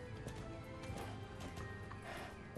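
A horse named Fortune Blaze gallops in a race in Star Stable, its quick rhythmic hoofbeats fairly faint and steady over a short stretch, with some background sound.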